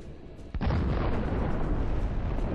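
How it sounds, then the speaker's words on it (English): A tank detonates after a precision drone hit: a sharp blast followed by a sustained, heavy, roaring rumble that fills the rest of the moment, loud and without speech. "A precision drone hit causes a massive detonation."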